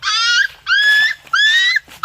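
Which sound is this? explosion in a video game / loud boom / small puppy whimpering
small puppy whimpering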